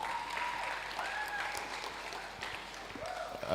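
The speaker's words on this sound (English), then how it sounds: "A round of applause for him, everyone." Applause from a church congregation at a Sabbath evening service, a steady patter of many hands clapping at moderate distance, with faint voices mixed in.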